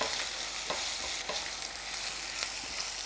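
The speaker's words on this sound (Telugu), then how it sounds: "ఒకసారి కలుపుదాం అన్నీ" Spices and red onion stirred in a hot pan give a close, steady sizzle with repeated scraping strokes of the spoon. No talking.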